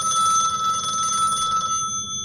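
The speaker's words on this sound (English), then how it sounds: "at dawn, my phone rang" A telephone bell rings in a continuous bright trill, loud and near, then cuts off near the end.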